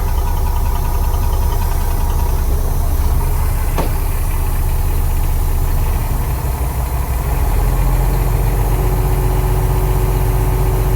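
An International Paystar concrete mixer truck idles while building up air pressure, a loud, close, unbroken low diesel rumble with a brief click early on and a slight shift in tone toward the end.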